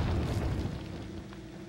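A tripwire explosive set off by a gunshot in Resident Evil 4, a deep rumbling boom that starts loud and fades over about a second and a half.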